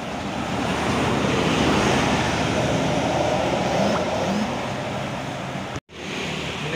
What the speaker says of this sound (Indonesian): terpantau bus ALS jurusan Medan Malang